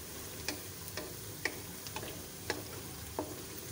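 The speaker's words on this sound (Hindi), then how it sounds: "प्याज को हमने हल्की आंच पर फ्राई करना है" Onions fry gently over low heat in a pan for a restaurant-style tadka dal: a faint, steady sizzle with sparse soft ticks and pops spaced about every half second, with no voices.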